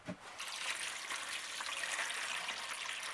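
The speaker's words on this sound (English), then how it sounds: "So I'll fill this up with a bunch of water" Water is poured into a seed tray for onion seedlings, a steady close hiss and splash of running water that begins abruptly and continues evenly without pause, with no talk.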